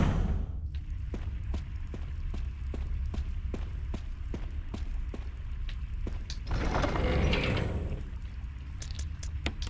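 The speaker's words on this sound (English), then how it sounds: "So that's a crank we don't have to use ever again." In the Resident Evil video game, Jill turns a crank mechanism in a tunnel, giving a steady run of evenly spaced ratcheting clicks, with a heavier rumbling surge partway through before the clicks resume.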